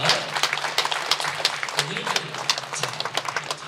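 Church congregation applauding, a dense patter of many hands clapping at moderate volume, with a faint voice underneath.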